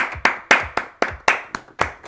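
Steady handclaps from a song on one of 2018's best albums, nine sharp, close claps about a quarter second apart in an even driving rhythm, with no other sound between them.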